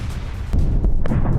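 Artillery fire and explosions striking a Russian T-80 BVM tank near Bilohorivka in the Ukraine war: a continuous heavy low rumble, with a sharp blast at about the half-second mark and more thuds following.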